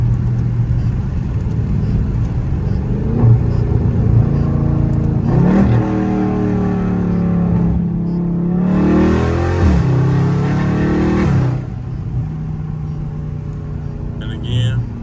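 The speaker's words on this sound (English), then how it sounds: "I'm gonna give y'all a little sound test right quick." A loud Dodge Charger Scat Pack, valves open, drives in traffic; its engine drones close by, then swells in two throttle pulls that climb and fall back, the second longer, before settling to a steady cruise.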